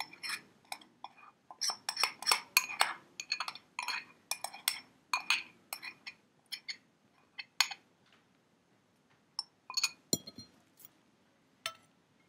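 Sauce being mixed into shredded papaya in a bowl for a tart papaya salad, with quick, irregular clinks and taps of a utensil against the dish that come in clusters, then thin out into scattered knocks.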